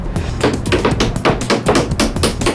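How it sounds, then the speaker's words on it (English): Rapid, irregular series of sharp knocks and taps as hammers knock down a ship's wooden launch ways, repeating loudly and close throughout with no pauses. "the command is going to be given to knock down"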